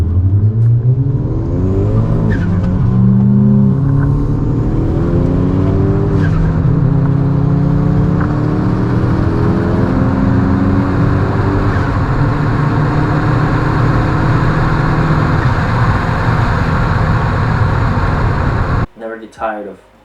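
A Chevy HHR SS on quarter-mile drag runs, manual and automatic played together, roars loudly with engines revving and climbing through gear shifts, wind and tire noise under it, ending abruptly; a voice talks over it.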